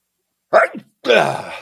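A single close sneeze, a short sharp intake followed by a louder breathy burst, with nothing else around it.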